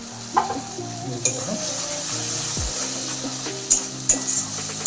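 Onion, ginger and garlic fry on high flame in a pan, a continuous loud sizzle with occasional scraping stirs and a few sharp clinks, over faint music-like tones.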